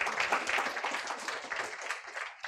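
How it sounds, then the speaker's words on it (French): Audience applause at a conference on cystic fibrosis: a dense, steady patter of many hands clapping together in a hall, fairly distant, fading slightly toward the end. "que je vous demande déjà d'applaudir, s'il vous plaît"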